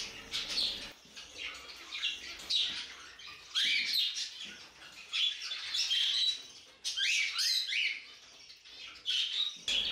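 Pet budgerigars in a cage chirp and warble in bright, overlapping bursts that come and go over about ten seconds, close and fairly loud, with no talking.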